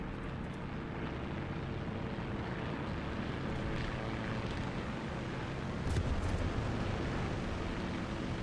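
In the video game War Thunder, a propeller aircraft engine drones steadily and loudly for the whole stretch, with a slight surge in intensity near the end and no talking.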